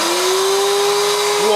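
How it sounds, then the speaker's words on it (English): A Purepower U3155 vacuum's turbo brush spins with a loud, steady motor whine at one constant pitch, then begins to shift right at the end. "wonder how much it spins this turbo brush"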